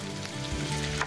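Ginger paste hitting a hot oiled pan, a brief dense sizzle and crackle of frying, close and steady.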